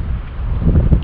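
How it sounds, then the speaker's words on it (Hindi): Cool wind gusts over a microphone in the Sangla mountain valley, a steady low rumbling roar throughout the short stretch with no other clear sounds. "ठंडी ठंडी हवा चल रही है"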